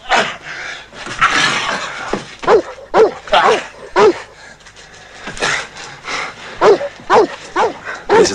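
A dog barks and yips in repeated sharp bursts, close by and fairly loud, with whimpering between barks and people talking in between.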